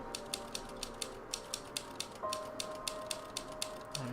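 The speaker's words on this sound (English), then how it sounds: "God, he's just been typing away over here." Typewriter keys clack in a steady, evenly spaced rhythm of sharp strikes inside a house in The Novelist, close and alone, with a brief mechanical tone entering partway through.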